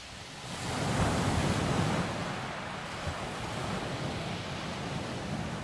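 Sea waves wash onto Eastney beach in a steady, close rush of surf that swells about a second in, then settles into a continuous hiss and roar with some wind on the microphone.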